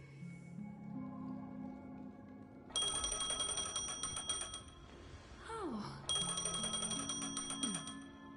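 Phone ringing in the Honkai: Star Rail video game, a bright repeating electronic ring in two bursts over background game music, with a brief spoken exclamation.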